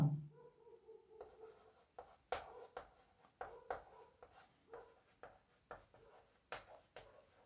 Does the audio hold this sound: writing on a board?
yes